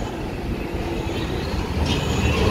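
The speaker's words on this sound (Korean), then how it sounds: "어머 트램도 있고." Tram rolling along a street in Alexandria, Egypt, near the Mediterranean seafront: a steady, fairly loud rumble of wheels on rails with a rising rush as it passes close by, with no talk over it.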